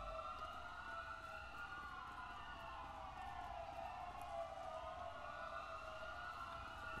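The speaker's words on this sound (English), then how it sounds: "I hear all these sirens, but no one." Police sirens in GTA V, several overlapping wailing sirens sweeping up and down together, steady and moderately distant over a low rumbling background.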